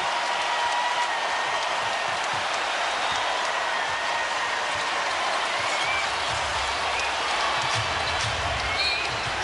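Basketball crowd in Boston during a Celtics–Heat playoff game cheering for Rajon Rondo, a continuous roar of arena noise with distant squeaks and murmurs, steady and wide throughout.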